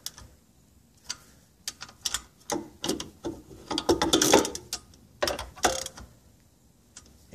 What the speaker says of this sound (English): Right now, I'm just going to torque these down by hand, just for the sake of time.